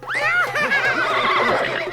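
A horse neighs loudly and close by in a Hindi-dubbed South Indian film scene, one rising and falling whinny lasting about two seconds with no talk over it.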